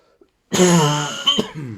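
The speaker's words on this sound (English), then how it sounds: "Forgive my cough." A single sharp cough from a person with a cold bursts out up close after a brief silence, followed by a rough throaty catch.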